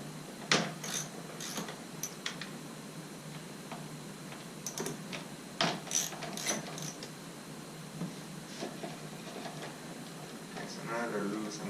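A hand ratchet loosening T30 Torx screws on a side view mirror of an MK5 VW Jetta, scattered crisp clicks and short ratcheting bursts, close and fairly quiet, with soft handling noise between.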